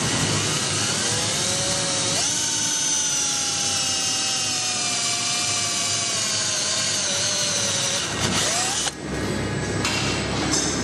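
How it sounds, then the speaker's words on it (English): Power drill boring holes through a Parajet paramotor top cage section, a steady high whine held close and loud for several seconds, its pitch sagging slightly as it cuts, then cutting off near the end. "Once you've drilled all the holes out"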